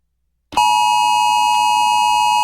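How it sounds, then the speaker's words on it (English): A steady electronic alarm tone sounds on a phone in the DDLC SVHS mod horror game, starting abruptly after half a second of silence and holding loud and unbroken to the end. "I jolt awake by the sound of a siren going off my phone"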